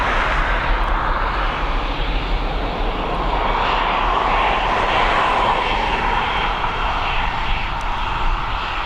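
Aircraft engines roar at Dublin Airport as a Boeing 737 MAX passes, a loud, continuous broadband rumble with a steady hiss that stays strong throughout.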